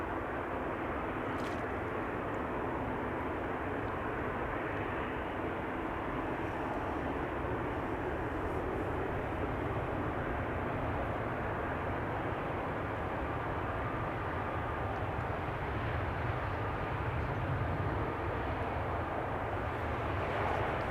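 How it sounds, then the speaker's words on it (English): A Play Airbus A321neo arriving at Amsterdam Schiphol gives a steady, continuous engine roar at moderate distance, unchanging and unbroken throughout with no voices. "Here we have Play flight 460 arriving from Reykjavik in Iceland. A321neo."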